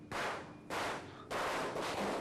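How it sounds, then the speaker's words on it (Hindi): Firecrackers set off in celebration of Diwali, heard as three loud, dense crackling bursts in quick succession, each lasting about half a second, with no talk. "ये पटाखे दिवाली की खुशी में फोड़े जा रहे हैं।"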